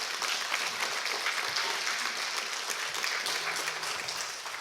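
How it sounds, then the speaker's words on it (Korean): Steady, dense applause from a symposium audience at a hospital pastoral committee event welcomes a professor to the podium, even and sustained throughout, easing slightly at the close. "큰 박수로 교수님을 모시겠습니다"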